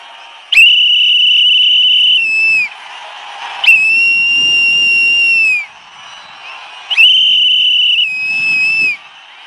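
Three long, loud whistle blasts at a campaign rally in Kanniyakumari, each held for about two seconds with short gaps, over a faint crowd murmur.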